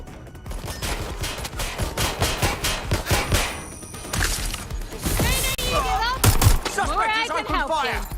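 Gunfire in Watch Dogs Legion, a dense run of rapid shots and bursts across a busy game soundtrack, with sharp crashes and warbling electronic tones near the end and voices speaking over it.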